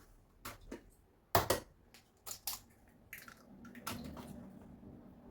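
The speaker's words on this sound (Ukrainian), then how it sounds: "розбиваємо яйця." A few sharp cracking knocks in quick succession as eggs are cracked, then wet drips and sloshing into a bowl of flour, close by and fairly quiet.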